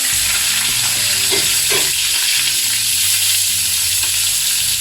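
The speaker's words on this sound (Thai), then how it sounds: "ใช้กระเทียมไทยนะคะแล้วก็ใส่กุ้งไปเลยค่ะ ใส่กุ้งไปรวนเลยค่ะ" Shrimp stir-frying with Thai garlic in a hot wok for fried rice, a loud, constant sizzle with a few scraping stirs and clatters of the utensil against the pan, no talking.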